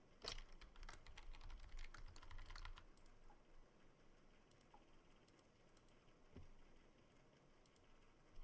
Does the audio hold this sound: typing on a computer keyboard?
yes